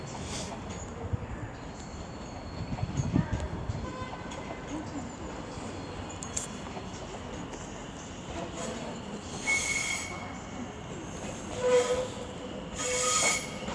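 A West Midlands Railway train rolls slowly into Wolverhampton station, wheels rumbling on the rails with occasional high squeals and screeches, heard from nearby on the platform.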